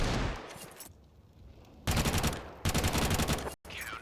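Rapid bursts of gunfire from a Counter-Strike pro match, loud and dense, with repeated sharp pistol reports stacking into volleys, broken by brief gaps and a sudden dropout near the end.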